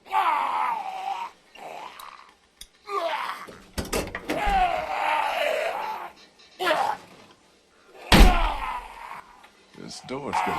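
Heavy door bangs land twice in The Walking Dead video game, loud and close, between stretches of character talk, grunts and groans.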